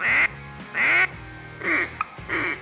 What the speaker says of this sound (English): Duck call is a little bit more challenging to master, but the basic building block is the quack.